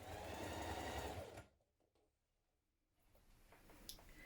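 Sewing machine running a stretch or zigzag stitch along a onesie seam, a close, steady mechanical whir that stops after about a second and a half, then quiet handling before the motor starts again.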